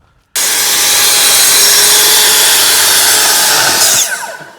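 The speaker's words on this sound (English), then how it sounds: "I'm going to just rip them right through now with the track saw" A track saw rips through wooden wall studs for a garden studio build, one loud, steady, close cut lasting about four seconds with a whining, rasping blade tone that spins down at the end.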